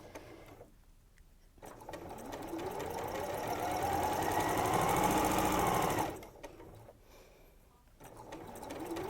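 Sewing machine stitching bargello quilt pieces together in pairs, a steady rapid mechanical chatter running for several seconds, rising slightly in loudness, then stopping and restarting more faintly near the end.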